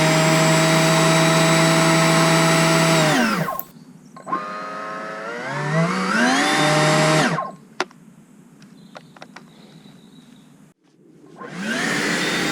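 A STIHL battery leaf blower whines at full speed, cuts out, spins up again with a rising pitch, drops away, then restarts near the end; loud and close, with short quiet gaps and faint clicks between runs.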